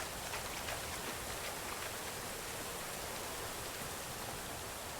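Steady rain falls in the Medieval Dynasty game on a foggy day, a dense, even hiss of drops that holds constant throughout with no voices.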